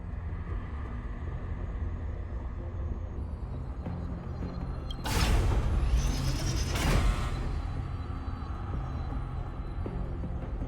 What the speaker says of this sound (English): Another mechanism shut down.